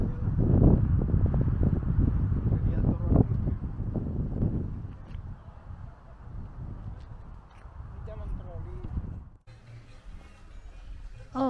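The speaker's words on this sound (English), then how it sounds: "It's windy, right?" Wind gusts across a hillside resort in Indonesia, buffeting the microphone with a loud, rumbling roar that eases partway through. Voices talk over the blustery noise.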